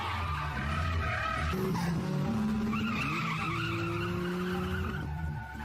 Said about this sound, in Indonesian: tiba-tiba datang AE86 melaju kencang